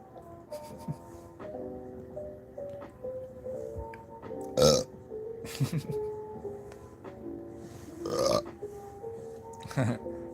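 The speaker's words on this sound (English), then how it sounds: "Burps." Several loud, croaky burps at irregular intervals, each a short rough belch, with speech-like murmuring in the quieter gaps between them.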